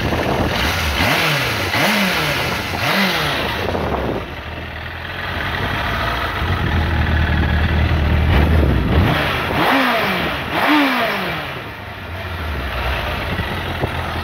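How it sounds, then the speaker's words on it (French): Suzuki 750 GSX-F motorcycle with a fairly quiet exhaust, revving in several rising and falling bursts over a steady idle, close and fairly loud, with no talking. "le pot est assez discret hein, au final, hein. Ça fait pas énormément de bruit"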